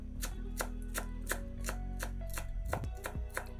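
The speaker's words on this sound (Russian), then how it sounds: "Пучок петрушки измельчаем ножом" A knife chops a bunch of parsley on a cutting board in quick, evenly spaced, crisp knocks, about a dozen strikes, close and clear, with faint background music and no talking.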